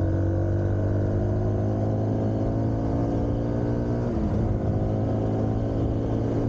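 A Modenas Z15GT motorcycle engine accelerates in fourth gear, a steady, close, droning whine that climbs slightly in pitch, loud and continuous with wind noise mixed in.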